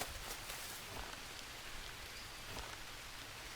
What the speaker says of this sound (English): So, it's raining.